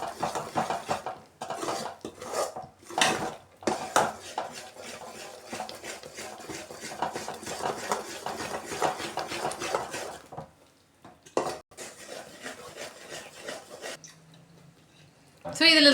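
A spoon stirs and scrapes Mysore Pak mixture in a pan while oil is poured in, giving repeated metallic clinks and scraping under a person's talking.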